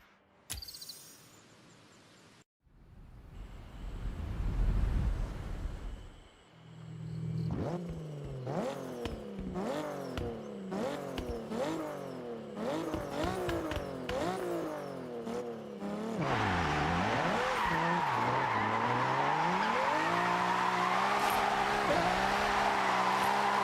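Toyota Supra driven in the racing game Forza Horizon: an engine revs up and down through repeated gear changes, then settles into a sustained high-speed roar with tyre noise, heard alone.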